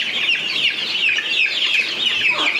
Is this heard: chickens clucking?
yes